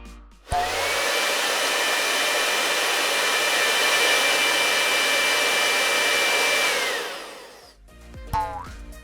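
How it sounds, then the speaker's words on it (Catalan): A hair dryer blows with a loud, steady whine and rushing air for about seven seconds, then winds down and shuts off. "Ara escoltarem el so d'un assecador de cabell."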